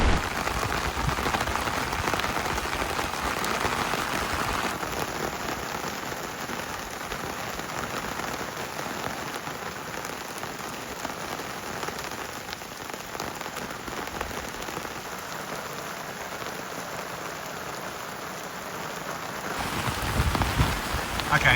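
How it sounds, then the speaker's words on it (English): Heavy rain from a sudden storm pours steadily at a campsite in the Blackdown Tablelands, a dense, close hiss of drops drumming on surfaces with no talk, building slightly louder at the end. "it's fairly throwing it down now. This storm kind of came out of nowhere."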